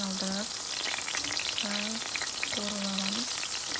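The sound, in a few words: frying enoki mushrooms in a pan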